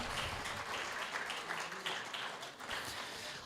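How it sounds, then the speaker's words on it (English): An audience at a Republican club evening meeting in The Villages applauds new paid members, a dense, steady wash of clapping that holds evenly throughout, with a few sharper claps standing out. "we would like to applaud you"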